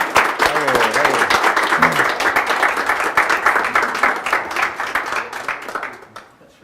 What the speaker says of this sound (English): And I need a huge round of applause to welcome these guys to Startup Grind.